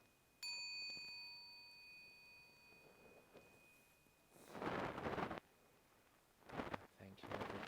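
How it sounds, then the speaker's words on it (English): A meditation gong at a Buddhist monastery in Albany, Western Australia, is struck once and its clear metallic tone rings on and fades slowly. Loud rustling bursts follow later. "I'm now going to ring the gong 3 times."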